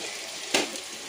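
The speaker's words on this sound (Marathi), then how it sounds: "टोमॅटो पण चांगला फ्राय होऊ द्यायचं." Tomatoes with a little salt fry in a pan for dal dhokli, giving a steady, soft sizzling hiss with one brief louder spatter partway through.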